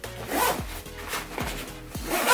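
Zipper being drawn along a travel backpack packed for winter backpacking, several quick rasping pulls in a row, close and fairly loud, with a low background hum and no talking.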